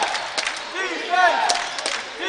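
Yeshiva University home crowd chanting defense at a college basketball game in the Skyline Conference semifinals, rhythmic voices and cheering heard under a play-by-play commentator.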